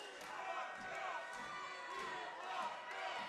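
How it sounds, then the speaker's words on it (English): A wrestling crowd in a packed hall keeps up a loud rhythmic chant of repeated syllables, with scattered shouts rising and falling throughout and no close voice over it. "The crowd chanting, we want MILFs."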